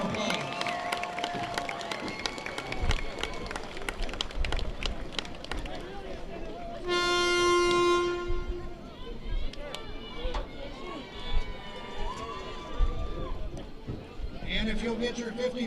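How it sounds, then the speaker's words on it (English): A stadium crowd at a North County football game applauds the senior cross-country runners, a steady wash of claps and cheering that runs for several seconds under a public-address announcer's voice. "Let's give them all another round of applause"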